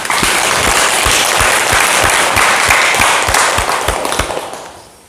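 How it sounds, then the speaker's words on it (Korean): Loud, sustained applause from an audience at a Buddhist dharma talk, honoring an elderly questioner from Ansan, with sharp, distinct claps standing out over the dense clapping before it fades at the end. "질문해 준 안산 어르신께 큰 박수 부탁드립니다."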